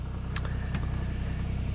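A truck engine idles in low gear with a steady, throbbing low rumble, close by and moderately quiet. Faint clicks and taps come through near the start, with no voices.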